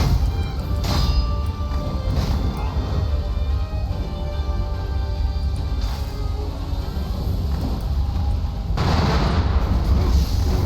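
Boss in Sekiro: Shadows Die Twice hurling firecrackers, a loud dense crackle of sharp bangs and bursts over a rumbling in-game background, with a few stronger pops standing out.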